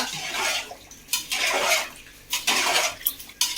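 A utensil scrapes and clinks against a metal pot of coconut rice in irregular bursts, with a wet, sloshing texture between strokes.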